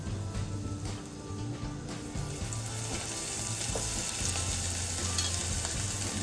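Onions fry in oil while being stirred, a continuous close hiss and sizzle with soft scraping strokes that grows slightly louder partway through, and no one talking.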